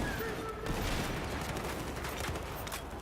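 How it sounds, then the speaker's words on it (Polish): Gunfire in the Battlefield 4 Beta shooter game, rapid overlapping shots in a continuous fusillade, fairly faint and distant, held at an even level throughout. "w każdym razie strzelamy, strzelamy"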